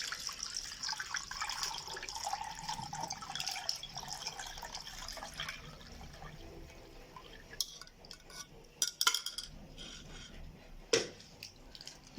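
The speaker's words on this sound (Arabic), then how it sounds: "نجيب مصفى كده، بسم الله، نصفي اللبن بتاعنا." Milk poured through a strainer while making homemade yogurt, a steady liquid trickle and splash for several seconds that thins into scattered drips and small clinks.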